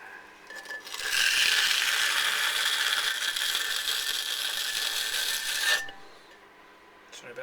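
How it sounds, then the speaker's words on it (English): Gritty clay heavy with grog is scraped during pottery making, a harsh, continuous rasping that lasts about five seconds, close and fairly loud, then stops abruptly. "Sorry about the scraping noise."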